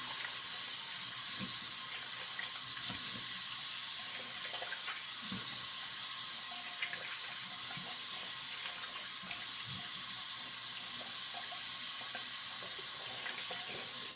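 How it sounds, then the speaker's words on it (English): Tap water runs steadily from a faucet into a sink as someone rinses off after a straight-razor shave, a continuous close hiss with small splashes throughout and no talking. "All right, let me rinse off."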